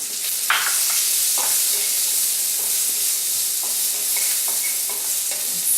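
Red onions and ginger garlic paste sizzle steadily in a hot pan, a constant frying hiss broken by a few soft stirring scrapes and clicks, close and fairly loud with no talking.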